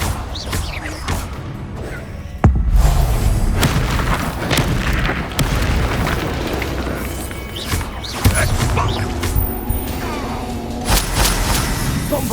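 The Confringo fire spell in Hogwarts Legacy goes off in a loud boom, then a second heavy blast follows several seconds later, both over a continuous rumbling, crackling battle din.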